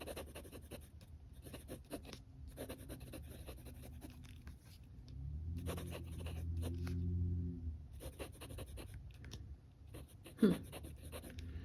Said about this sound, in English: now let's go ahead with our writing sample